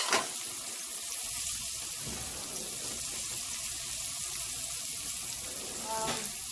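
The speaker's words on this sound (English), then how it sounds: "I'm going to add some wine to it, and it's going to splatter" Mushrooms frying in a hot pan with wine just added, giving a steady, loud, close sizzle and splatter that runs throughout without talk.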